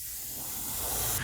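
An airbrush hisses steadily at low pressure, spraying pearl paint in light pats onto a perch-pattern crankbait lure, a close continuous airy spray that swells slightly toward the end.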